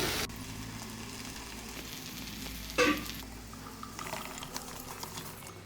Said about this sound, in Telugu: ఉల్లిగడ్డలు మనం నూనెలో కొంచెం ఫ్రై చేసుకుందాం